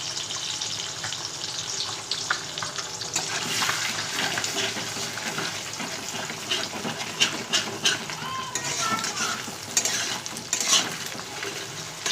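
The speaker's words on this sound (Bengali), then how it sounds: "ডিমটা এখন সুন্দর করে ভেজে নেব ঝুরঝুরে করে" An egg scrambling in hot oil left from frying vegetables in a wok, a steady sizzle with scraping stir strokes and spatula taps growing busier, no clear talk.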